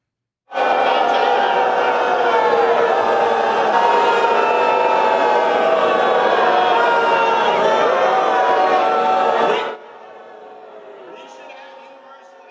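A large convention crowd boos a politician in a loud, sustained roar that starts abruptly and holds for about nine seconds before cutting to a fainter crowd murmur.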